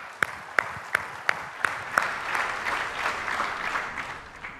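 An audience at a human rights conference applauds for Sri Lanka, starting with a few distinct, evenly spaced claps from one pair of hands before a broader, softer wash of crowd clapping follows.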